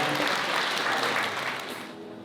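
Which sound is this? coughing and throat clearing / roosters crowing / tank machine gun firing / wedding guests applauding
wedding guests applauding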